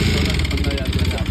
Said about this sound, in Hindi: क्रैंक साउंड कर रही है।